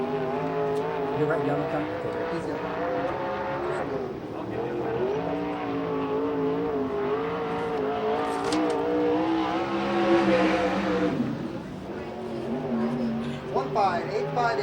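USAC/CRA sprint cars at Hanford, California rumble and rev as the pack rounds toward the green flag, a loud continuous engine roar swelling near the end, with a race announcer talking over it.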